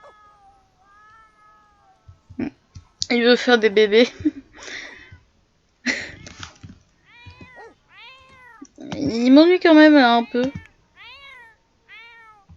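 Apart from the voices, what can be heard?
cat meowing in the video game Sims 4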